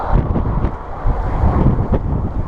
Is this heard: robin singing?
no